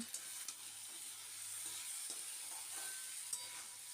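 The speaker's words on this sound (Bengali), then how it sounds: "এখন একটু ভালো করে নেড়ে চেড়ে সমস্তটা মিশিয়ে নিচ্ছি" Mixed vegetables for a Bengali shukto being stirred in a pan, giving a faint, steady sizzle with soft scraping strokes and occasional light clinks, no talking.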